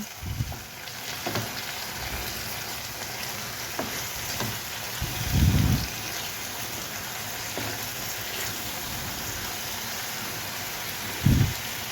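Onions and masala frying in a pan for a potato and pea curry, giving a steady, crackling sizzle throughout, broken by a few soft thumps of stirring.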